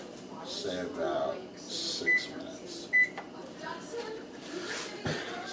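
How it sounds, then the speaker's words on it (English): A kitchen timer being set gives two short electronic beeps, close by, amid general kitchen noise while a person talks. "So let's set a timer."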